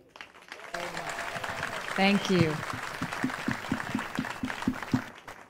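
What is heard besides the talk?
audience applause for a speaker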